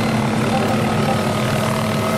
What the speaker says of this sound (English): These helicopters are a lot easier to control since they're lighter